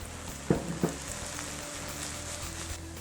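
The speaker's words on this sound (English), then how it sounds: "we'll add our flip-flop Pinot Grigio wine" Pinot Grigio wine poured into a hot pan of vegetables for sweet and sour chicken sets off a steady loud sizzle, with a couple of sharp clanks near the start and no talking.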